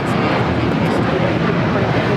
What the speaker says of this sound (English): That was Alaska Airlines Flight 6 taking off to Washington National on a 737-800